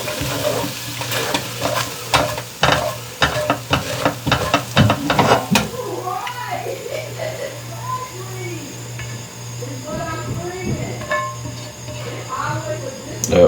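A spatula scraping beef pot pie filling out of a pan, a quick run of close metallic scrapes and clinks that gives way to softer wet stirring and sizzling, with someone talking now and then.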